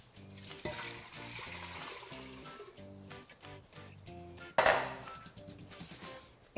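Water pours into a pot holding a chicken carcass and bones, with a soft trickling and splashing, light clinks of the pot and a sharper knock midway, fairly quiet and close.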